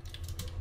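Quick keystrokes on a computer keyboard as a number is entered, a short burst of several light, close clicks in uneven rhythm.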